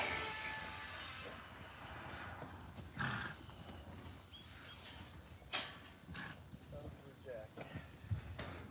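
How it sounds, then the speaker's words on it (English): Jack donkey moving around an auction yard, hooves clopping irregularly on hard ground amid steady outdoor insect buzz and faint background noise, with no close talk. "So we have a jack donkey too,"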